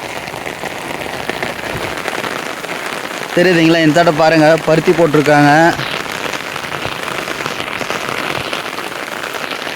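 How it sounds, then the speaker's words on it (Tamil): Heavy rain falls steadily across a village, a dense continuous hiss of drops on surfaces throughout, while someone talks over it in the middle. "சரியான மழை காய்ஸ்."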